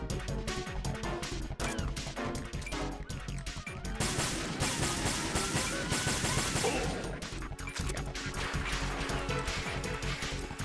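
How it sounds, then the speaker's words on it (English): Gunshots and crashing impacts in Metal Gear Solid 2: Sons of Liberty, dense and loud, with rapid bursts and smashes running over a constant game soundtrack and no clear talk. "Let me shoot him in the head."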